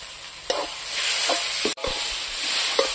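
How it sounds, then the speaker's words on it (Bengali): Spices with dry red chili powder sizzle and fry in a pan for alu dum, a steady close hiss broken by several scraping stirs and one brief pause in the sizzling. "মশলাটা ভাজা হয়ে গেছে"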